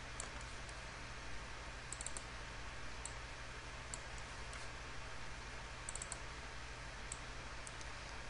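A computer mouse gives sparse, faint clicks, some in quick double pairs, over a quiet room hum.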